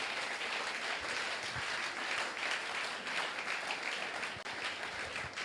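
A church congregation applauds in a dense, steady wash of clapping that holds evenly for several seconds, moderately distant and without a clear voice on top.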